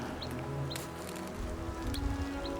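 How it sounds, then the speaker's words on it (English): Birds chirp in short, high calls repeating every half second or so beside a quiet beaver pond in Denali, Alaska, over a steady wash of a distant river with faint rustling. "The birds chirping."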